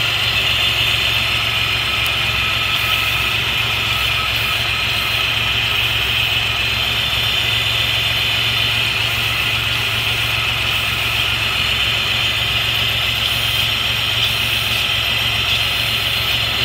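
A Chevrolet Beretta engine runs at a steady idle, a continuous close drone with a constant low hum and a high whine, unbroken for the whole stretch with no voices.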